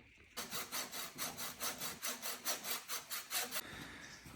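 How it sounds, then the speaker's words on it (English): A hacksaw rasps back and forth through metal about a dozen times in a steady rhythm, close and clear, then stops. "what I'm going to do is just use a hacksaw like that"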